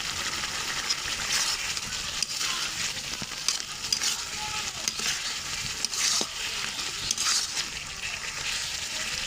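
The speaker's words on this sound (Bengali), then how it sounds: "এখন আমরা মাছ দিয়ে মশলাটা কষিয়ে নিব" Tuna being stir-fried in spice paste in a pan, giving a steady, continuous sizzle with scattered scraping and stirring clicks throughout, close up and with no talking.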